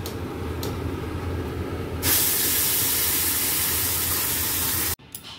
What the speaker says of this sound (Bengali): দিয়ে দেবো অল্প একটুখানি গোটা জিরে, দিয়ে এর মধ্যে পেঁয়াজ বাটাটা অ্যাড করে দেবো।